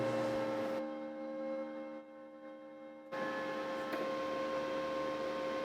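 A semi-automatic welder feeds wire through its torch sleeve, a soft steady mechanical whir with a tonal hum that cuts out briefly in the middle before resuming, faint and close with no voices.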